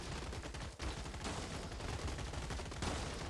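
Dense machine gun fire from robots in the game Gladiabots, a continuous loud rattle of overlapping rapid shots throughout.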